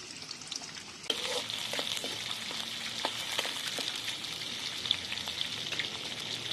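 Onion dropped into hot oil in a pan for noodles bursts into a steady, bright sizzle that continues evenly, with a few light stirring clicks, close and fairly loud.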